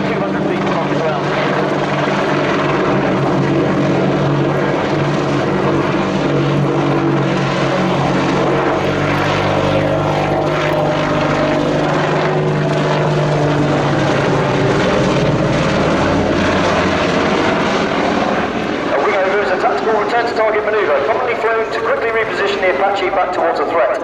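A military Apache helicopter flies a display at an air show, its loud steady rotor thump and engine drone filling the whole stretch under a commentator's voice, shifting in tone as it manoeuvres.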